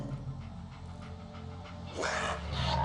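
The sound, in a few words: dog panting and whimpering in video game Fallout 4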